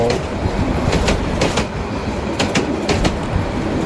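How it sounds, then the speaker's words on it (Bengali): A train rolls past beside the Jamuna (Bangabandhu) bridge in the Bus Simulator Bangladesh game, a steady rumbling rail noise with repeated clickety-clack wheel beats throughout, heard from a bus crossing the bridge. "দেখতে পাচ্ছেন বাম সাইডে একটা ট্রেন চলে যাচ্ছে"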